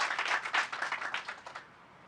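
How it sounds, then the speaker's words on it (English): An audience at a groundbreaking ceremony applauds a city councilwoman, a dense burst of clapping close by that fades out after about a second and a half. "Please give the city councilwoman a big round of applause"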